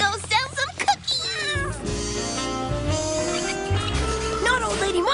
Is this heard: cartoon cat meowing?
yes